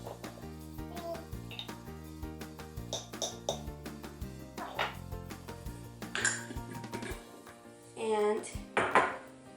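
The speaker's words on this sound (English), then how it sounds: "I'm going to go ahead and add my next cup of flour and the rest of my salt" Flour and salt scooped into a bowl for homemade clay dough, with scattered clinks and knocks of a scoop against the bowl and a louder scraping rustle near the end, close up over a faint steady background.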